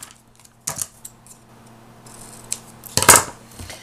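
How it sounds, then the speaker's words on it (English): Scissors trimming excess green cardstock during cardmaking: a few brief snips and rustles, ending with a louder, crisp cutting crunch. "Oops, it looks like I got it a little bit long. So I'll go ahead and trim off the excess."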